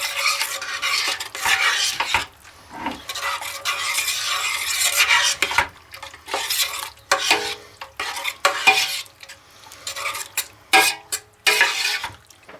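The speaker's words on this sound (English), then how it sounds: "We're going to add the rest of that sauce to our beef. We're going to mix it up." Tomato sauce being stirred into browned ground beef for lasagna, bursts of wet scraping and spoon-against-pan clatter in uneven strokes with short pauses, faint sizzling beneath.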